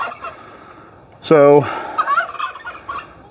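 A turkey on a farm that also keeps goats, rabbits and chickens lets out one loud, close, rapidly warbling gobble midway through, followed by softer scattered bird and yard noises over a steady background hiss.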